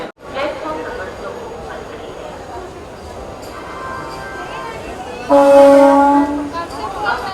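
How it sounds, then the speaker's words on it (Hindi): The 12948 Azimabad Express pulls into platform 5 at Patna Junction, a steady rolling rumble of the train with a loud, sustained horn blast near the end, alongside station noise and voices. "12948 Azimabad express train Patna junction के प्लेटफॉर्म नंबर 5 पे।"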